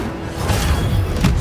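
Incendio fire spell cast in Hogwarts Legacy: a dense whooshing burst of flame with low thuds and rumbling, loud and close, flaring again near the end.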